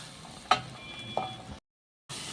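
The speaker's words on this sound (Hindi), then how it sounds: "तब तक हम मसाले को अच्छी तरह से भूनेंगे" Masala roasts in oil while a Bharwa Karela, stuffed bitter gourd, is being cooked, making a soft, close sizzle with two sharp clinks of a utensil, then a brief silence before the sizzle returns.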